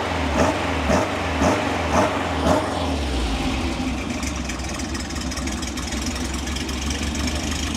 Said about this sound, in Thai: เครื่อง4 สูบ